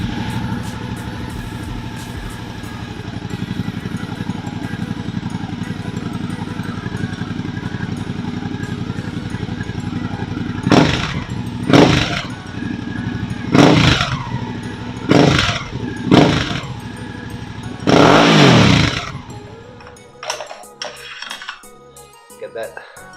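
A Suzuki V-Strom 650 XT with a Delkevic exhaust and the baffle fitted idles steadily, then gets several sharp throttle blips in a row before shutting off.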